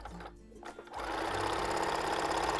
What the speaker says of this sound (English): Sew it on this side.